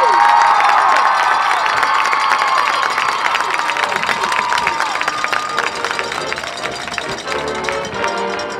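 A large crowd at a high school marching band event cheers and applauds the senior class in a loud, continuous roar, with shouts and clapping sustained throughout.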